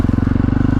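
A dirt bike engine pulses in a fast, steady chugging rhythm during a wheelie, loud and close.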